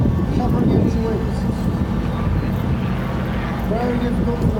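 An aeroplane hovers in place at the AeroExpo UK 2017 air show, its steady engine drone sustained and fairly loud with faint tonal whines, while a commentator's voice runs over it.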